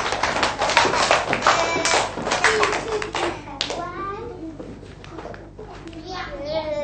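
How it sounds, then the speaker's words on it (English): A class of young pupils claps for a classmate in a primary school maths lesson, a burst of children's hands slapping with scattered taps and kids' chatter over it, loud and close. "give him a big clap"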